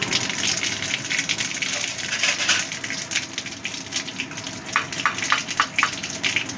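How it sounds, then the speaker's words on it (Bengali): Whole cumin seeds hit hot oil left over from frying potatoes, giving a continuous loud crackling sizzle with quick bursts of popping. "এবার ওই তেলের মধ্যেই দিয়ে দিচ্ছি গোটা জিরে ফোড়ন"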